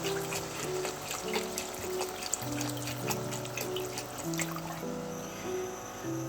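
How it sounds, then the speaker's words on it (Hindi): Water poured into a pot of mutton and potato curry (aloo gosht) in a home kitchen, a continuous gentle trickling and splashing, close and steady, with no talking. "अब यहाँ पे हम इसमें ऐड करेंगे पानी।"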